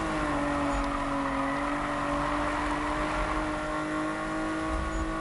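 A video game car engine drones at steady high revs with a sustained tonal whine, loud and continuous, with no voices.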